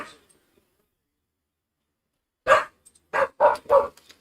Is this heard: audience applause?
no